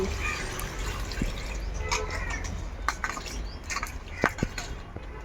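Water running and dripping while rinsing chopped ash gourd for a mutton curry in a home kitchen, a steady wet wash with scattered drips and light clinks, fairly close.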